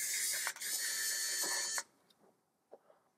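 A powered screwdriver with a magnetic hex bit whirs loudly for almost two seconds, backing screws out of the underside of an Amiga keyboard, followed by a few faint clicks and small handling taps.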